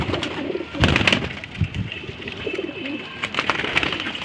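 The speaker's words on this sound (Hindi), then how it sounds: "सलेटी कबूतर है जी" A grey pigeon coos in soft, repeated low calls at close range, with some faint background noise.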